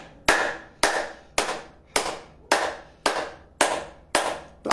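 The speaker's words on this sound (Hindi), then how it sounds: "तालियां बजाना" Hands clap in a steady, even rhythm during a devotional group session, nine sharp, loud claps spaced about half a second apart with no talking.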